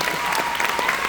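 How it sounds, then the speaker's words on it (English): Audience at a football and baseball awards event applauding for a coach, a steady wash of dense clapping throughout, fairly loud and close. "How about a round of applause for Coach Fair"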